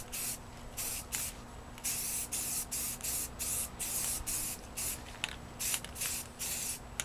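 Primer sprays from an aerosol can in short, rhythmic close-up bursts of hiss, separated by brief pauses, over a faint steady hum.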